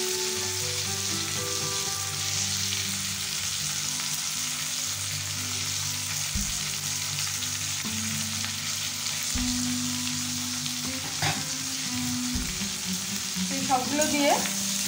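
Potatoes and pointed gourd frying with salt, turmeric, red chilli powder and cumin powder for a prawn curry, a continuous loud sizzle with occasional spatula scrapes and stirring clatter throughout, no voices.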